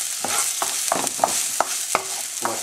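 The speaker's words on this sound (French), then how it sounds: "dans notre wok, on a mis un peu plus d'une cuillère à soupe d'huile. On va faire revenir les oignons." Coarsely chopped onion frying in a little oil in a wok, a bright steady sizzle broken by regular spatula strikes and scrapes, close and moderately loud.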